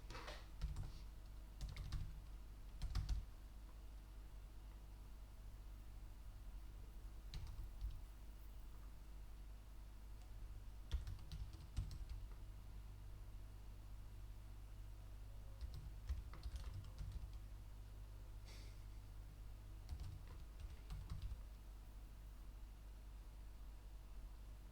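Steady typing on a computer keyboard, with quick bursts of key clicks and short pauses, fairly close against a low background hum.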